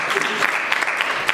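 Audience clapping at an inspirational spoken event, a short burst of dense, steady applause from a crowd filling the whole moment.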